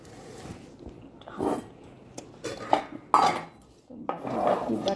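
Plates and bowls clatter and clink on a home kitchen counter during meal preparation, a series of close, sharp ceramic knocks and scrapes with quiet gaps between them.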